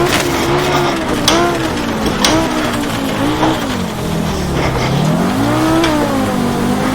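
A Group B Audi rally car in the AMS1 racing sim, engine revving hard and climbing through gears, pitch rising and dropping with each shift, loud and close with some tire noise.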